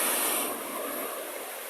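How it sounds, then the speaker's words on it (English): Broadband wash of ocean surf at a beach on a rainy day, a steady near roar with no distinct breaks, alone without voices. "Yes, this is the beach."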